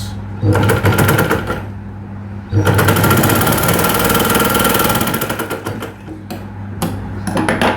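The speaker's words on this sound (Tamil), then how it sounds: "அப்படியே எடுத்துட்டு இந்த ஓரத்தில் ஒரு தையல்" A sewing machine hems the edge of a blouse: loud rapid mechanical stitching in long continuous runs, with brief pauses between bursts, close up.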